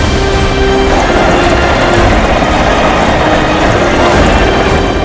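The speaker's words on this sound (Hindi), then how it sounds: "आकाश की बुलंदियों पर नेताजी के उड़ते हेलीकॉप्टर होंगे।" A helicopter carrying a politician on the campaign trail flies overhead, giving a loud, dense rotor and engine roar with a rapid mechanical chop that runs unbroken throughout.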